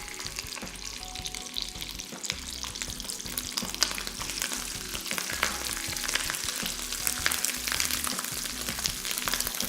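Prawns fry in a pan for garlic butter shrimp with soy sauce, giving a dense, continuous crackling sizzle at close range throughout, with no voices over it.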